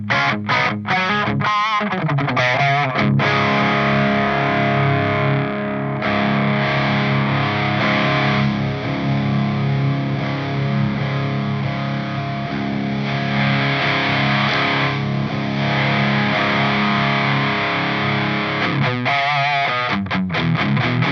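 Electric guitar played through a Wylde Audio WA44 overdrive pedal into a clean amp, giving a loud, steady distorted tone with sustained chords and a few brief choppy strums at the start and end, with no talking.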